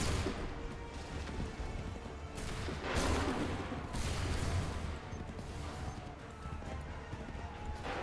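Musket volleys crack out in Assassin's Creed III, with several dense bursts of gunfire over a rumbling battlefield din, fairly faint and distant in the mix.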